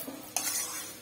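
A spoon scrapes and stirs grated taro with spices in a pan. It gives one sharp clatter followed by a soft sizzle, brief, close and without voices.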